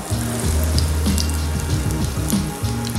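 Vadai batter sizzling in hot oil, a dense steady crackle and bubbling heard close up and alone, with no voices.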